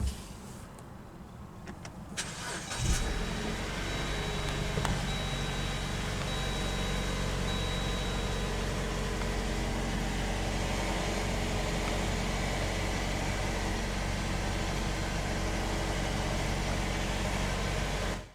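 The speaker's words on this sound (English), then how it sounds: "And now we'll go ahead and start the engine." A 2019 Jeep Wrangler Unlimited Sport with the 2.0-litre turbo eTorque engine cranks and fires after a short quiet pause, then settles into a steady, even idle heard from close by for the rest of the clip.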